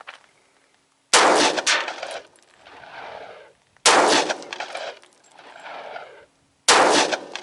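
Three loud, close gunshots from an S&W M&P Shield 45 pistol firing 200 grain XTP handloads, spaced about three seconds apart, each a sharp crack followed by a fading outdoor echo.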